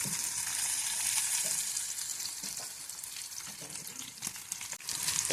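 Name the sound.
green chillies frying in hot oil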